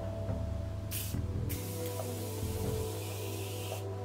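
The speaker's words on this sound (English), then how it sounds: "So I've only sprayed it on my right side of my face." Two short, breathy bursts of makeup setting spray hiss, close by, over a low steady hum, with a third fainter puff near the end.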